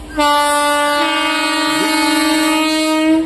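A train sounds its horn with a loud, close, sustained blast lasting about three seconds, a steady rich tone with a slight wavering in pitch, with no talk.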